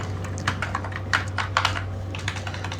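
Keys clack on a computer keyboard as a worker's name is typed, a quick irregular run of close taps over a steady low electrical hum, with a short pause before the typing resumes.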